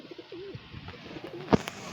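Pigeons at the Dankuni haat bird market coo in soft, repeated low warbling calls, fairly close, with one brief sharper knock near the end and no talking.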